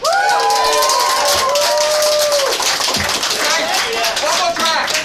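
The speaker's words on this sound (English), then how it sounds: "All the cat girls and cat boys, round of applause." A crowd cheers, whistles and claps loudly at the finale of a cat-themed anime convention in Sydney, with a voice calling over the dense, continuous roar.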